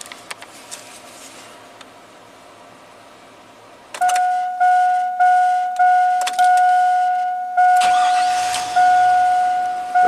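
A GM Chevy V8 truck with about 170,000 miles cranks in a steady series of loud, rhythmic pulses after a quiet stretch, then fires up and keeps running close by.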